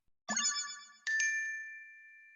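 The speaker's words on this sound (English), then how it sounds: "This time the notification sound has something ominous to it" An ominous notification chime from an anime plays as a bright bell-like tone, then a second struck chime that rings on as a sustained, slowly fading pure note, alone and clear.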